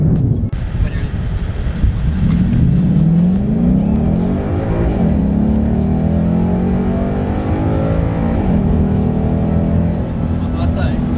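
A tuned Ford Mustang V8 pulls hard from a standstill, its engine note rising through several gear changes with loud, close revving, with voices talking over the roar.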